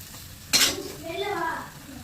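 Mushroom and meal maker sautéing in gravy in a clay pot: a sharp metal clink of a spoon, then soft stirring and a faint sizzle.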